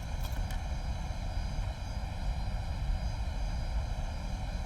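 A steady, droning Fokker F28 airliner engine hum with a constant whine during shutdown in Microsoft Flight Simulator, running evenly without change throughout.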